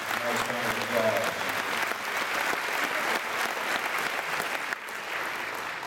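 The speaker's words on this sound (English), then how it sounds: "please give them a nice round of applause" An audience claps for scholarship pipers, drummers and dancers at a Saint Thomas' Episcopal School Sounds of Scotland concert. The round of applause is full and sustained for the whole stretch, with faint voices mixed in early on.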